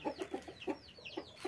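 Burmese gamecock hens cluck in a quick series of short, close calls, interspersed with a few higher bird chirps, and no one talks.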